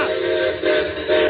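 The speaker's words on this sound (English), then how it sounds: "Well, the whistle." A train whistle blows in loud sustained tones with a brief dip in the middle, sounding a warning as the train approaches a car stopped on a grade crossing.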